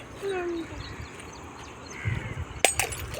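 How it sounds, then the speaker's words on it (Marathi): A sharp crash of a glass bottle breaking near the end, with a brief clatter after it, following quieter riverside sounds and a few distant calls. "काचेची बॉटल फोडायची नाही"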